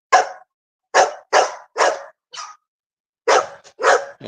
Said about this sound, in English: You got to worry about these bulldogs.